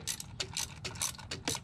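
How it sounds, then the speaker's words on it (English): Hose clamp pliers click and ratchet in a few quick bursts as they work a coolant hose clamp on a 2008 VW Passat, close and fairly quiet. "I also got me a set of hose clamp pliers."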